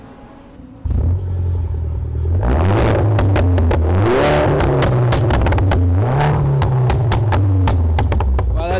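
A modified Mini car engine cranks and catches, then idles with a loud rumble and revs up and down several times nearby, alone without talk.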